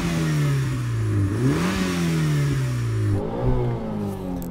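A car engine revs loudly and steadily, pitch climbing and dipping, then drops and rises again in a second rev near the end.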